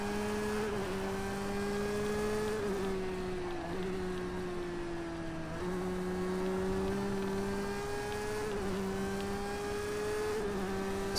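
A race car in a racing video game drones steadily at high revs, its engine pitch dipping briefly at gear shifts and then climbing again, continuous and alone with no talk.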